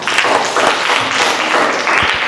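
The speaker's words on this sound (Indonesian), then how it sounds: "Tepuk tangan." Seventh-grade students in a classroom clap their hands, a loud, close, continuous patter of many hands that holds evenly for a couple of seconds.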